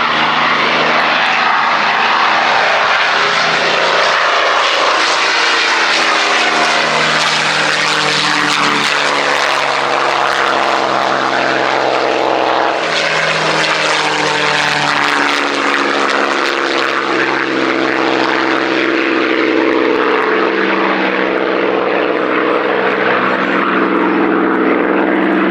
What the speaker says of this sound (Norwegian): Og her ser vi Mustangen komme.